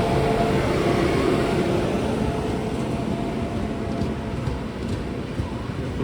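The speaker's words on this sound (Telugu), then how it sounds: "క్రాసింగ్ చెప్తాను, ట్రైన్ అయితే వస్తుంది" A train rumbles steadily past a railway crossing on the Mangaluru–Ernakulam route, a loud, continuous low roar of rolling wagons with no pauses, close and dominant throughout.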